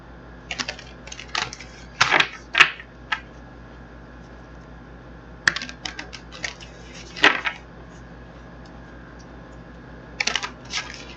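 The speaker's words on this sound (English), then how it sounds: "I want to get these cards shuffled up" Crisp, irregular bursts of tarot cards being shuffled, riffling and slapping in clusters with quiet gaps between, close by and no talking.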